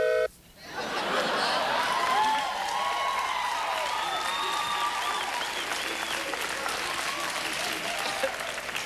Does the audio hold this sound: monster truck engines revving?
no